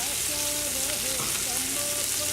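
Garlic, ginger and red pepper mixture frying in a hot pan for a Nepali potato curry, a steady close sizzle with no voices, the crackle even and unbroken throughout.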